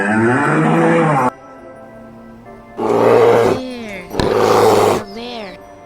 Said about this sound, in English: A bear.